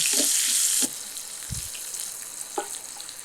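Salted onions sautéing in a pan start with a loud, bright sizzle that drops after about a second to a softer crackle with a few light knocks of the utensil, and no voices.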